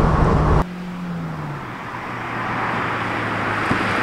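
A Peugeot 207 CC engine accelerating hard with the throttle floored, heard from inside the car as a steady, loud roar with a low tonal drone that shifts after the first half-second.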